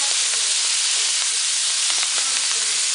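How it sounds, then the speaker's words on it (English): Collard green florets sauté in melted butter with a steady, bright sizzle throughout, punctuated by faint clicks of stirring, close and continuous with no talk. "the florets, the collard green florets being sauteed"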